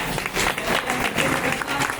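Applause from an audience welcoming guests at a public gathering in Ambedkar Nagar, a brief, dense burst of many hands clapping at moderate distance.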